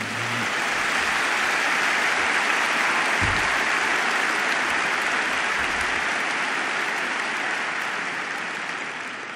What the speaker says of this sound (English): Now you can go wild with applause for the group.